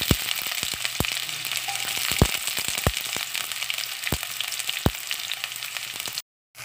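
Chopped onions sizzle and crackle in hot oil for a sardine tinola, a loud steady frying hiss with sharp pops scattered throughout before cutting to silence at the end.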